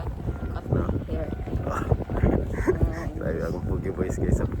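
Gusty wind buffets the microphone in a steady rumble while people talk over it outdoors.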